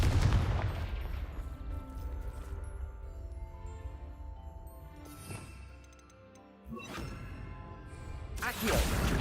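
Confringo fire blast spell cast in Hogwarts Legacy, a burst of gunfire-like blasts and whooshing impacts that fade in the middle, then a sharp crackling burst near the end.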